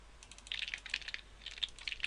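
Rapid clicking keystrokes on a computer keyboard as code is typed, quick irregular bursts with brief pauses, close and fairly quiet.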